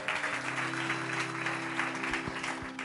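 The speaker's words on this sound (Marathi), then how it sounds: "जरा जोरदार टाळ्या प्रभूसाठी" A church congregation breaks into loud, sustained applause during a sermon, dense clapping throughout with a held keyboard tone sounding underneath.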